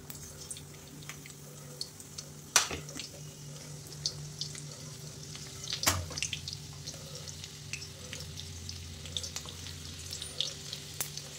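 Garlic sizzling and crackling in hot oil in a pan, a steady close fry hiss with scattered pops and a few sharp clinks of a utensil.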